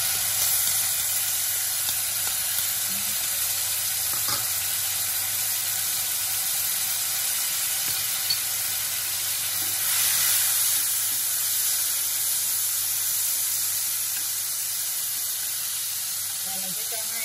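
Steady frying hiss and sizzle of sausages in a pan as tamarind juice goes in, a continuous loud spray-like sizzle running throughout with a voice talking over it.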